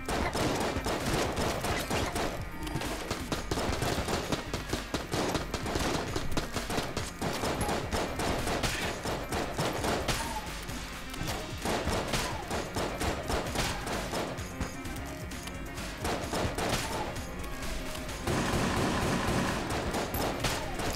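Continuous rapid gunfire from the video game Enter the Gungeon, dense volleys of shots layered with game sound effects and music, loud and unbroken throughout.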